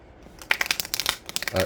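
Moonology oracle cards being shuffled, a quick run of riffling, slapping card sounds lasting about a second, up close.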